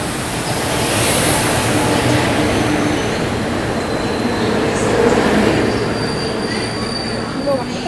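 The Karnavati Express overtakes close by, heard from aboard a moving express train on an Indian railway line: a loud, continuous rush of wheels and rail noise with faint squealing that swells and holds for several seconds.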